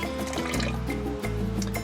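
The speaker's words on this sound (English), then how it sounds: "I'm just going to rinse, do a little rinse-a-roni on the rice" Rice being rinsed in water to wash out the starch, a short close burst of sloshing and trickling liquid with small drips, heard alone.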